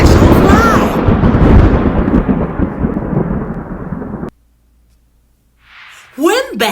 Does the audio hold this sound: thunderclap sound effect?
yes